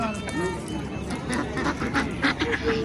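Ducks quack in short repeated bursts amid a busy market, with people talking over the birds throughout.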